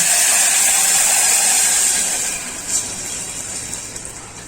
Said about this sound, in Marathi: 2-3 वाट्या पाणी टाकायचं.